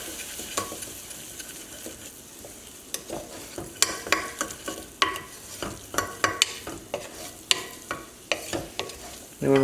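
A spoon stirs salted corn in a pot, making a close run of scraping knocks against the metal, with a soft sizzle underneath.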